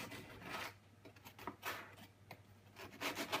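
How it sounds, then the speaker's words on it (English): A sharp serrated knife saws through a firm baked log of peanut biscotti dough, making soft, close rasping strokes in an irregular rhythm with brief pauses between cuts. "taking a sharp serrated knife and holding quite firm"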